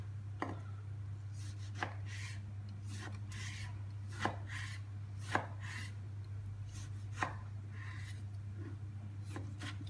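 Knife chopping unseeded tomatoes into small squares on a board, with sharp separate cuts at an irregular pace over a steady low hum, no voices.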